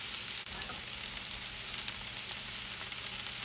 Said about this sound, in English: you're gonna get a nice sear on the first side